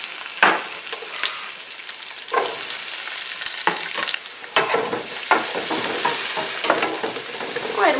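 Sliced Steak-umm beef sizzles loudly in a frying pan, a steady close crackle broken by scraping stirs and a few sharper spits.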